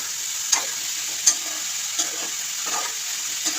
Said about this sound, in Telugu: మధ్య మధ్యలో కొంచెం ఇలాగా ఇచ్చేస్తూ ఉండాలి, లేదంటే ప్యాన్కి అంటేస్తుంది. ఇలా కలుపుతూ ఉండాలన్నమాట.